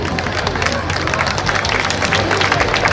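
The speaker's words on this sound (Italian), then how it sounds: "un applauso, bravo DJ!" An outdoor crowd at a beauty pageant in a town square applauds the DJ, giving steady clapping mixed with crowd babble and some cheering.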